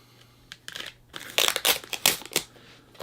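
Short bursts of crinkling, tearing plastic and cardboard as a comic book mystery box package is cut open, irregular crunchy rustles growing louder toward the middle, no talk.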